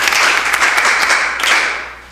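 An audience at a school quiz competition applauds the introduction of an education director, a brief burst of many hands clapping nearby that swells and then trails off toward the end.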